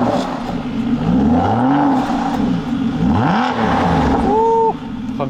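An Aston Martin Vantage engine revs through a U-turn, its loud close-up note swooping up and down in pitch in several rising and falling sweeps before a brief higher whine near the end.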